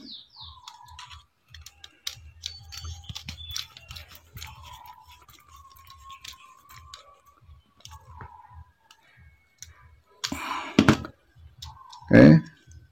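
A screwdriver tightens the screw on a wall socket during work on a double switch wiring job, making small scattered clicks and scrapes up close, with a couple of louder knocks near the end.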